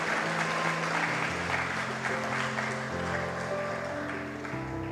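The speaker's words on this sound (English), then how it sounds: "She deserves a special round of applause" Sustained audience applause at a school speech day and prize-giving ceremony honoring a Caribbean netball tournament champion, a dense steady wash of many hands clapping throughout, easing slightly at the end.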